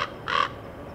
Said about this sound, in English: get ready to hear a female raven's call